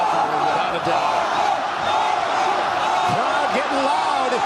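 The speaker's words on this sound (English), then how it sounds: "Crowd getting loud." Spectators at a RAF Wrestling match roar in a loud, sustained wall of crowd noise with shouts and whoops, while a commentator talks over it.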